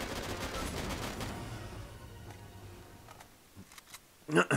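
Rapid gunfire in Uncharted 3 multiplayer on the Airstrip map, a dense burst of shots over the first seconds that thins into scattered distant pops, with a sharp louder crack near the end.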